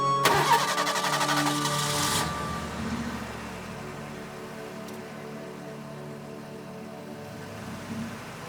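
A vehicle engine cranks and catches with a sharp whirring start, then settles into a low, steady idle that continues quietly, with a faint click midway.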